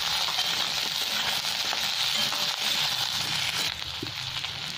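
Sliced potato, eggplant, onion and green chili sizzle in hot oil, a dense, continuous crackling hiss close by, with occasional stirring scrapes and a slight drop in intensity near the end.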